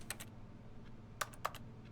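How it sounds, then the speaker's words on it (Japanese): A computer keyboard heard inside The Stanley Parable: Ultra Deluxe, with a few soft clustered keystrokes near the start and a couple of sharper taps later, over a faint steady hum. "この音って私がキーボードをしてる音があっちで流れてるってことか。"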